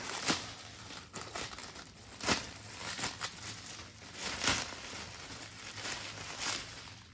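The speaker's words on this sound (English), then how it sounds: "There's a lot of cling film here and a lot of wrap." Cling film and plastic wrap on a motorcycle GPS mount and footpeg kit being torn and pulled open up close, with repeated crinkles and sharp rips in uneven bursts, no voices.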